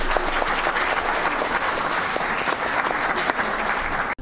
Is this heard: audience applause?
yes